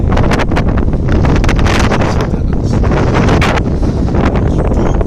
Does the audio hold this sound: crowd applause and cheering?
no